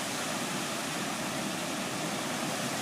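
Water pours steadily through a slightly open gate on the North IRC canal spillway, a constant broadband rushing roar with no breaks and no voices.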